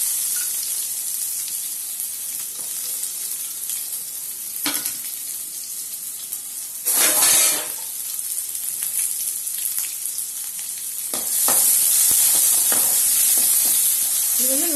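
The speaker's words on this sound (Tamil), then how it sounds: "நல்லா ஒரு கோல்டன் கலர் வர வரைக்கும் வெயிட் பண்ணி நல்லா வதக்கணும்" Onions sauté in a pan until golden for a Tamil chicken kulambu, a loud continuous sizzle with sharp stirring clatters and a burst of hissing, swelling louder toward the end.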